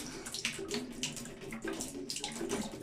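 Water splashes and gurgles steadily as it is poured out of an oak barrel being prepared for alcohol, a close, continuous trickling pour with small surges.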